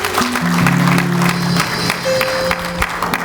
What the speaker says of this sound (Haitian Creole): On nous applaudit Seigneur ensemble.